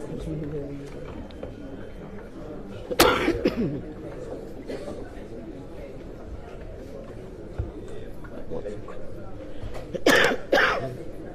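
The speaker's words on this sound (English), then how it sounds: "Don't start coughing now." Two bursts of coughing, one early and a louder pair near the end, over quiet low background noise.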